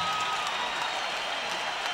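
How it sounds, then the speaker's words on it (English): Boxing arena crowd applauding two featherweight fighters after a knockout in round eight of a WBU featherweight title bout, a dense, steady wash of clapping and cheering from a large audience. "How about a round of applause for two featherweights in this ring"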